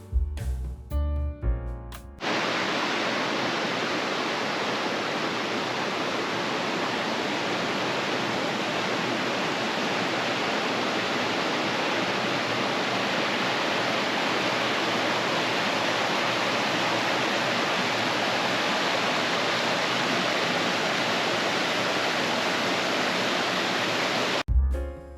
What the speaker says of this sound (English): The Wahconah Falls brook flows over several smaller falls before ending in the 40-foot tiered main cascade.